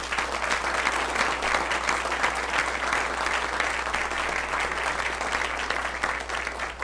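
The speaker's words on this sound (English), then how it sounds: "Let's give our students from Orion another big round of applause." Steady, sustained applause from an audience at a school board meeting honouring students, a dense even wash of clapping that holds at full strength throughout without a break.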